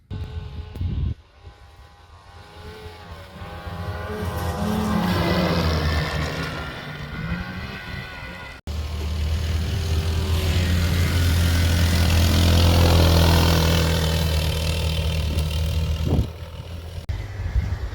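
Several snowmobiles ridden together through the Maine back country roar steadily and loudly, engines swelling and holding, with a sharp cut partway through before the engine noise builds again.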